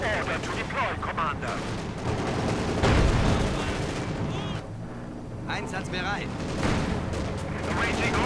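Gunfire and artillery-like bursts from a Company of Heroes 2 match as a Soviet T-70 light tank attacks German assault grenadiers, with dense battle noise continuing throughout under a commentator's voice.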